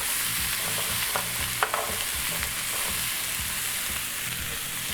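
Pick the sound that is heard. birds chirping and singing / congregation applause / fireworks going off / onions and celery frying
onions and celery frying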